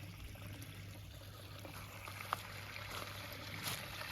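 Spring water runs and trickles steadily outdoors, a faint, continuous wash with no voices.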